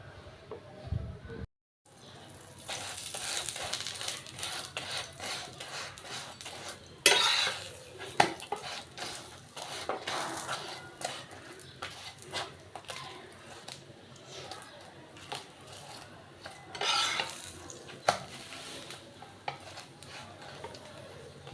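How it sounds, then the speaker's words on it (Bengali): Paratha frying in a hot frying pan, with a steady sizzle under repeated clinks and scrapes of a utensil against the pan, close and continuous throughout. "আর এখন আমি এটাকে ভেজে নেব পরোটাটা।"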